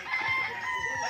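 Roosters at a crowded poultry farm in Tanay, Rizal, crow in overlapping, drawn-out calls, loud and close, filling the whole moment with no talk.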